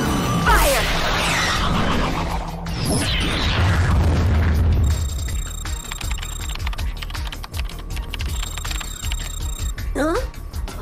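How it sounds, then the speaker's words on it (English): A cartoon explosion from a nav skid torpedo, heard as a deep boom and rumble under spoken dialogue, followed by bright electronic sci-fi effects and chirps. "An explosion. A nav skid torpedo."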